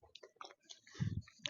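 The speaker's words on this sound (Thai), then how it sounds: "ฟังเสียงย่ำ" A brief burst of crunchy chewing, crisp bites up close after a few scattered clicks and small noises.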